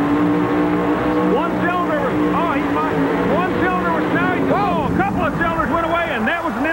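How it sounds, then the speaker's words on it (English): Camaro drag race car engine roars steadily and loudly at a 1989 Memphis drag race, a continuous broad drone with a commentator talking over it throughout. "Now let's sit back and enjoy this beautiful Camaro."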